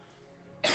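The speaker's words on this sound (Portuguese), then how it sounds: "peraí que eu vou tossir aqui" A single sharp human cough bursts out loudly near the end, after a stretch of quiet room tone.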